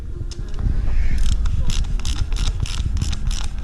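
A small ratchet turns a reverse-thread bolt on the brake lever of a Grizzly 700 ATV, giving rapid, close mechanical clicking and creaking in bursts over steady low background noise.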